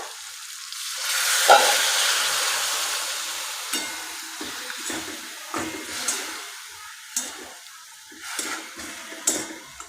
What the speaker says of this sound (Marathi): आता आपण यामध्ये थोडंसं पाणी टाकूया